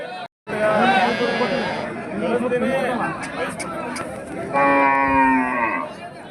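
Cows and cattle at a weekly livestock market in Honnali, Davangere, low off and on with several drawn-out moos, the loudest near the end, over the steady chatter of a crowd and a nearby voice.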